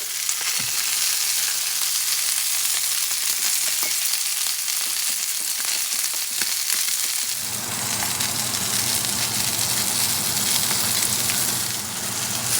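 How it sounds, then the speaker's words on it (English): A 21-day dry-aged ribeye steak sizzles and fries steadily in a cast iron pan, a loud continuous crackle that grows fuller and denser partway through, with no talking. "I am going to cook one side for about maybe 4-5 minutes due to the size."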